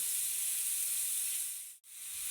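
Shredded cabbage and carrot fry in hot oil with a steady, close hiss of sizzling that briefly cuts out near the end and then returns.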